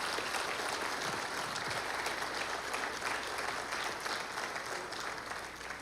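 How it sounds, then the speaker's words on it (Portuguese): Applause from a church congregation fills the space for the whole stretch, a dense, steady wash of many hands clapping at moderate distance, tapering slightly near the end. "Vamos dar uma salva de palmas para esse Jesus maravilhoso?"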